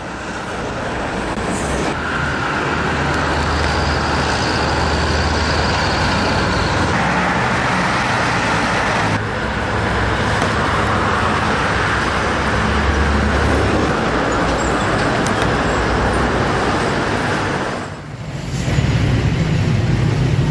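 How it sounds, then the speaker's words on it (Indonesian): Dense highway traffic of private cars and buses on a toll road ahead of New Year, a loud continuous roar of passing vehicles with engine drone and tyre hiss, one brief dip near the end. "lalu lintas yang didominasi mobil pribadi dan bus ini masih relatif lancar dan belum terjadi penumpukan"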